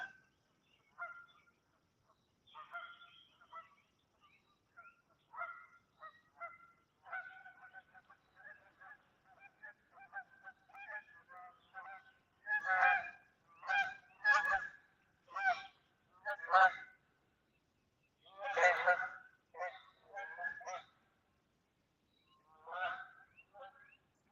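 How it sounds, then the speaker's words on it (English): Geese honking repeatedly, starting as scattered softer calls and building to a loud, dense burst of overlapping honks, then tapering off. "Those are geese, actually, probably."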